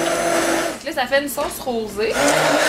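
A blender whirs steadily while mixing parmesan into a rosé sauce for tortellini, loud and close throughout, with someone speaking French over the motor.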